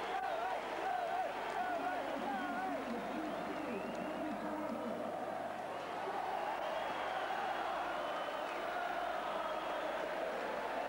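An Aberdeen football crowd in a stadium cheering striker Joe Harper at a league championship celebration, a sustained, dense roar of many voices with chanting swells, holding steady throughout.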